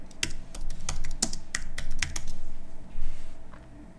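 Someone types a search phrase on a computer keyboard, with a string of crisp, irregular key taps and a few heavier strokes over about four seconds. The sound is close and moderately loud, with no speech.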